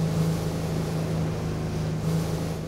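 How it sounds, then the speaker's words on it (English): A boat engine runs steadily at close range on coastal water, circling a fishing net to drive fish into it, with a constant low drone and some wind noise. "All we're trying to do right now is to scare fish into the net using the engine"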